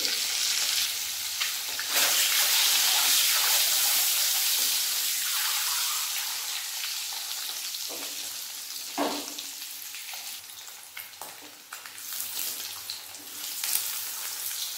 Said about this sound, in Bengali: দিয়ে দেবো সিদ্ধ করে রাখা ডিম, তেলের মধ্যে দিয়ে দেবো হলুদ গুঁড়ো